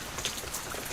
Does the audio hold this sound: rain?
yes